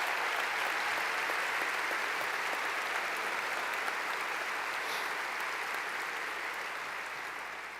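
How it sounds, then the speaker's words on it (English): Steady, sustained applause from a large crowd, loud and continuous, tapering slightly at the end. "So give them a big round of applause as well."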